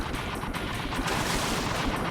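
Dense, continuous gunfire from the video game Jak 2, a steady barrage of rapid shots with no gaps, loud and close throughout.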